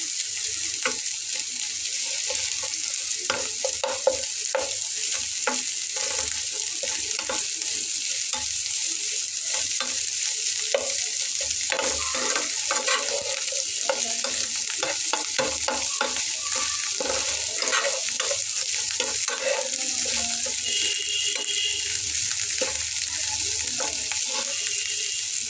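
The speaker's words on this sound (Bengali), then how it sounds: "তো দেখুন একবার উল্টে দিয়ে কিন্তু ভেজে নিচ্ছি।" Food sizzles as it fries and is stirred and turned in a pan for a Bengali breakfast or snack, a constant crackling hiss with scattered scrapes and clinks, close and with no talking.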